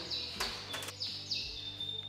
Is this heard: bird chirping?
yes